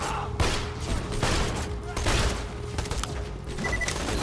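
Rapid bursts of gunfire from a weapon in the video game Borderlands 2, loud and close, with repeated sharp shots over busy game noise while someone talks throughout.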